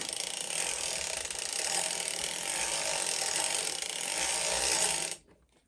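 Hand-cranked circular sock knitting machine turning around its cylinder, giving a steady clicking, ratcheting mechanical whir that holds evenly for about five seconds and then stops abruptly.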